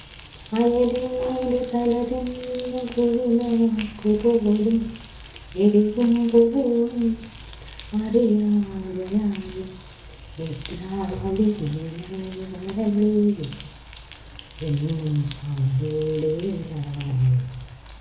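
Fish heads frying in oil, a steady sizzle running beneath a voice that sings a tune throughout.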